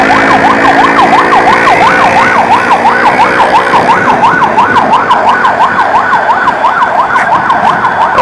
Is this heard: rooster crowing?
no